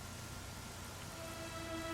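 Steady rain falls in the Dragon Quest XI video game, a continuous soft hiss of drops on surfaces, even and unbroken, with a faint tonal hum underneath and no talking.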